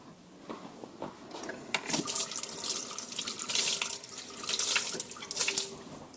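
Running water splashes and trickles as spilled glaze is sponged off the outside of a ceramic pot in a school art workshop, a steady close wash that swells and eases without talk.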